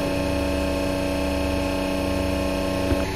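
A boat engine runs with its engine cover open, giving a steady, loud idling drone with strong low hum and tonal whine throughout, no talk over it.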